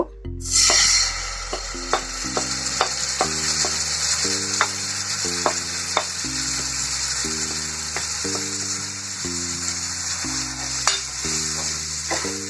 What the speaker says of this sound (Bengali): এই মশলাটা আমি ফেলে দেব না, এটা আমি একটু ভেজে নেব